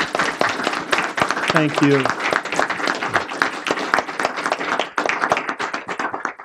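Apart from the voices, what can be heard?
audience applause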